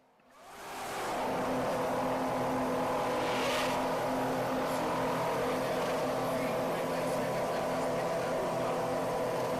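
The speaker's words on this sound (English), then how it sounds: "These deafeningly loud machines are F1 cars." Formula 1 race cars roar in from near silence to a deafening, sustained high-pitched engine howl that holds loudly for several seconds.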